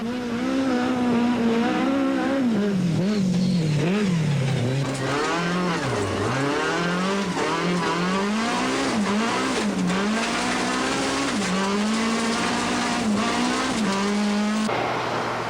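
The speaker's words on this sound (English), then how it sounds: "Here we're in car with Fecken as he tries unsuccessfully to better Lorenz's time" An in-car view of a rally car on a stage at the 2002 Tour Natal, the engine loud and near throughout, pitch climbing and dropping steadily with gear shifts and occasional tire scrabble.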